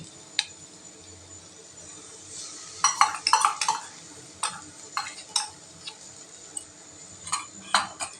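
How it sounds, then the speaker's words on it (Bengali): Two cracked eggs go into fried vegetables for cheese egg chowmein, with clusters of close spatula scrapes and pan clatters over a faint sizzle, and no voices. "এর মধ্যে দিয়ে দিচ্ছি ফাটানো দুটো ডিম।"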